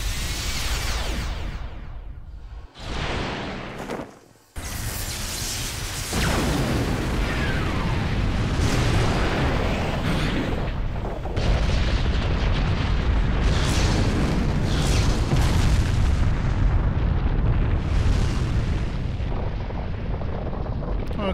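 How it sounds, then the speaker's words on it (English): An ion cannon in the Asura's Wrath video game fires a massive blast, a roaring, rumbling explosion that swells after a short gap and then sustains as a loud, dense boom with crackling bursts for many seconds. "it's basically a big ion cannon"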